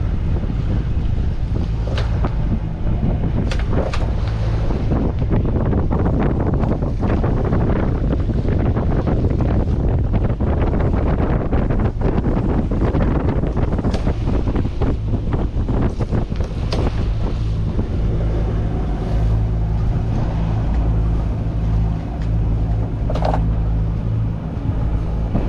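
A Malo 39 sailing yacht on a delivery passage from Ullapool to Falmouth moves through the sea in wind, with constant loud wind buffeting and water rushing and splashing along the hull, no voices.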